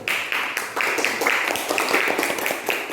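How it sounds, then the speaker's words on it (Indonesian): Primary school pupils clapping in a classroom for a presenting group, a brisk burst of many hands that stays lively for a few seconds before easing. "Tepuk tangan untuk kelompok 1."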